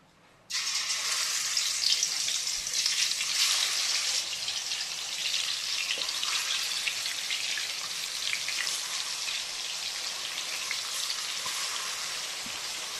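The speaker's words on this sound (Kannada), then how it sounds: "ಇದನ್ನು ಫ್ರೈ ಮಾಡ್ಕೋಬೇಕು ನಾನೀಗ." Marinated chicken dropped into hot oil bursts into a loud, dense crackling sizzle after a brief quiet start, then keeps frying steadily and close for the rest of the stretch, with no talking.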